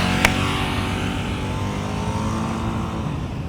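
A motorcycle engine hums at elevated revs during slow-speed riding practice, a steady mid-level drone that eases slightly over a few seconds after a brief click at the start.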